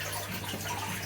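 Water falls from a filter tub through sponges into a garden fish pond holding young Oranda goldfish, giving a steady, even splashing rush with no talking.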